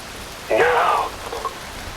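Rain falling in Metal Gear Rising: Revengeance on PlayStation 3: a short swell of hissing downpour that rises at half a second and fades after about a second, with a faint extra patter later.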